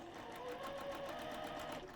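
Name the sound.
sewing machine sewing over magic pins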